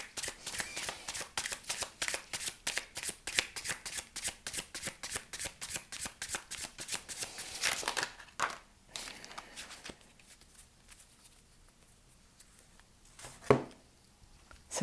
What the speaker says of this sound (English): Let me pull you a card from this deck before I shuffle for the